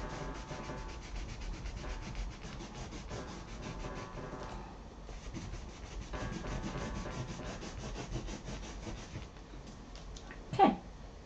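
A stencil is scrubbed with distress ink and oxide ink, giving continuous rapid scratchy rubbing strokes that pause briefly midway, close and fairly quiet, ending with a sharp squeak.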